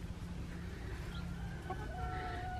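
Chickens in a coop give a few soft clucks and brief calls, fairly quiet against a constant low background rumble.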